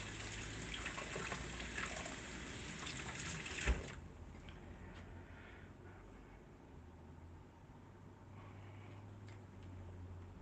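Water runs from a tap as dentures are rinsed, a rushing gush that tapers after a few seconds into a fainter trickle, no speech.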